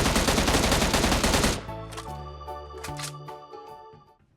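Automatic fire from an M16 rifle in PUBG Mobile: a dense, loud burst of rapid shots for about a second and a half, then the echo and tail ringing out under game music.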